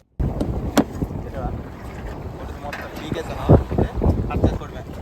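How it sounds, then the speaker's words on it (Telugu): Strong stormy wind at sea buffets a fishing boat, giving a steady roar with gusty swells and thumps of the hull and microphone, moderately loud throughout. "ఇప్పుడు గాలి ఎంత ఎక్కువగా ఉందో ఒకసారి మీకు నేను చూపిస్తాను చూడండి క్లియర్గా"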